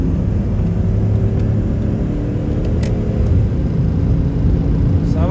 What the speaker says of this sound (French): On va faire des petites accélérations, clapet fermé sur l'autoroute